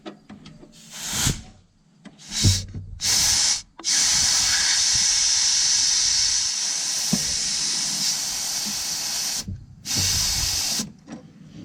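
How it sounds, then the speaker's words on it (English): Bursts of sharp hissing as air and brake fluid spit out of a 1967 Chevy II's rear brakes, several short blasts, then a long steady hiss that cuts off and returns briefly. "You can audibly hear it"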